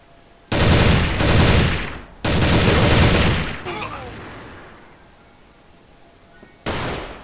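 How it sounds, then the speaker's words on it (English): Loud bursts of blast grenade explosions and rapid gunfire in a competitive online shooter match, several heavy broadband blasts in quick succession, then a decaying rumble and a final burst. "Blast grenade!"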